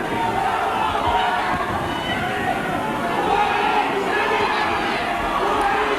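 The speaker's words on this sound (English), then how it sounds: "and the crowd on their feet." A boxing crowd on its feet roars and chatters in a continuous, dense wall of noise at a 1989 fight between Tommy Williams and Andy Morgan, with a commentator talking over it.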